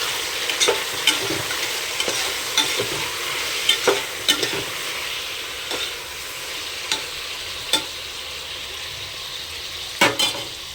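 Tomatoes, mint and green chilies sizzle and fry in a pan, a steady crackling hiss broken by sharp clinks and scrapes of a stirring spoon against the metal.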